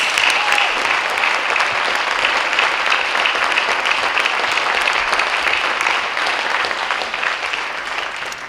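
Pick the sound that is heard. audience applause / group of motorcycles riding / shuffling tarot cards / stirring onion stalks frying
audience applause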